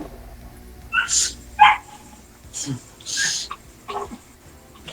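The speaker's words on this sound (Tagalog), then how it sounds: "Ano mga aso yan?" A dog gives several short yips and barks, loud and close, with breathy pauses between them and a hint of whimpering.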